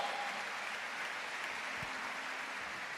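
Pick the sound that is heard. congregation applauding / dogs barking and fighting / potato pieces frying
congregation applauding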